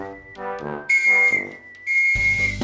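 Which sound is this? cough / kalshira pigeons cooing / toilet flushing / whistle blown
whistle blown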